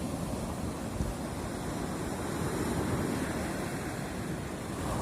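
Surf washing onto the shore in a steady, broad hiss with a soft swell in the middle, mixed with some wind noise.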